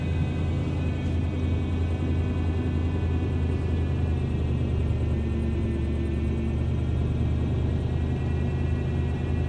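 A truck engine on high idle during Winter Storm Uri gives a steady, constant low rumble with a faint whir throughout, and no voices.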